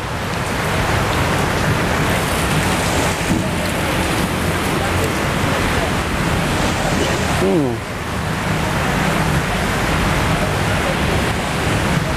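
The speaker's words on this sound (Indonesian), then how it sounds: "Pas banget, suasana lagi turun hujan, dingin" Steady rain falling during cold weather, a dense even hiss that holds throughout with little change, loud and close.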